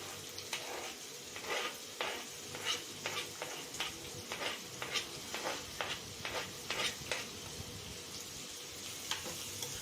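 Curry leaves and onion frying in oil for chicken sukka, a steady close sizzle broken by repeated crisp crackles and pops at an irregular rhythm, with soft stirring scrapes and no voices.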